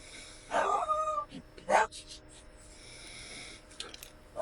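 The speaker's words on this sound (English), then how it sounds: "Sorry about the puppy barking." A small dog gives a couple of short, high yaps up close, followed by quieter scuffling and faint whimpering sounds.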